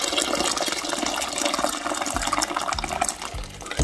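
Water poured into a cooking pot of dried split fava beans for Moroccan bissara, a steady splashing gush with a few low thumps near the end.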